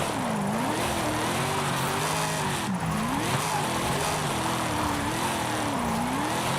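American muscle car drifting in Forza Horizon 5 driven on a steering wheel, a loud continuous engine note rising and falling with sustained tire squeal throughout, close and without talk.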